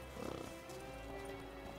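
A horse in The Witcher 3: Wild Hunt snorts and shuffles with a few hoof clops, fairly quiet over a steady background hum.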